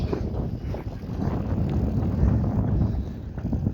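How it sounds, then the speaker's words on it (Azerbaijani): Wind buffets the microphone outdoors in Azerbaijan with a steady low rumbling roar throughout, with no voices or other distinct sounds. "biraz külək var"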